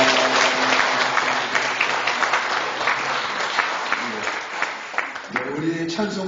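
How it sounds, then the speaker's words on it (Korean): A church congregation at an evening revival service applauding its visiting denomination president, a dense sustained wash of clapping that fills the room, with a voice emerging near the end. "예, 귀한 말씀 전해주신 우리 총회장님 박수 한번 쳐드리겠습니다."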